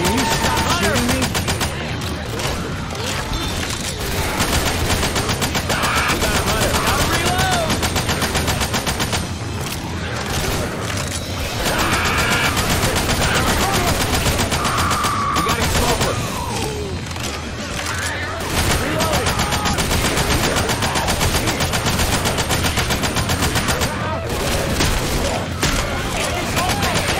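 Rapid sustained gunfire in Left 4 Dead 2, dense bursts of automatic shooting and booms continuing almost without pause, loud and close, with brief dips between volleys.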